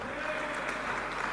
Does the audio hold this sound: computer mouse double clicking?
no